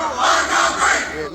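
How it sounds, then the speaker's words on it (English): Angry crowd rushing a riot squad in Southampton, a dense roar of shouting voices rising and falling in surges, loud and close throughout. "An angry crowd rushed the riot squad in Southampton."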